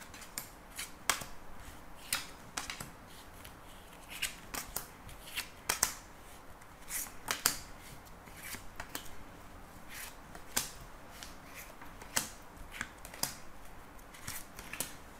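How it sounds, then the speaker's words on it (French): Tarot cards being shuffled and drawn for a reading, a run of soft papery flicks and riffles scattered over about fifteen seconds, close and quiet with no talking. "je vais faire le tirage. Donc, on va prendre 13 cartes."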